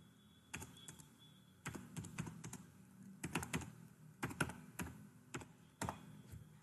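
Bursts of computer keyboard typing, quick clusters of key clicks separated by short pauses, close and fairly quiet, with no talking.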